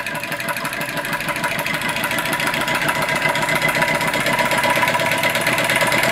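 A scratch-built flame licker engine runs steadily and close by, giving a continuous dense mechanical chatter with a rapid, even beat that holds at a constant level throughout.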